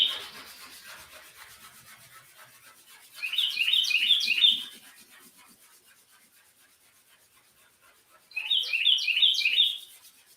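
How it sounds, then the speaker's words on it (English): Outdoors, a bird gives two separate bursts of quick, high, raspy chirps several seconds apart. Each burst is fairly clear over a faint background hiss, with no talking. "And you can hear the bird."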